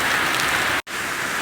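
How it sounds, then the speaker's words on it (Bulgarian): Heavy rain pours down in Greece, a dense, loud, steady hiss of drops hitting surfaces, broken by one brief cut of silence. "мога да ги покажа как дъжд се изсипа"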